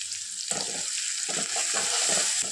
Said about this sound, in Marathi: आता एक छान मिरची फ्राय झाल्यावर त्याच्यामध्ये कांदे टाकायचे आहे.